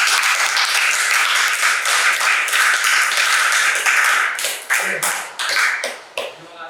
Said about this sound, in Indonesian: kasih aplaus untuk teman kamu